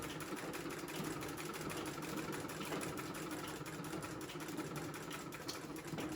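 A vintage 1929 sewing machine stitches a tote bag handle, a fast, steady mechanical clatter running evenly throughout, close and fairly quiet.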